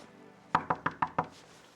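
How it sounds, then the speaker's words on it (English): Knuckles rap on a hotel room door in a hallway, five crisp, evenly spaced knocks close by, alone in a quiet space. "first time we ever did a door knock in a hotel hallway"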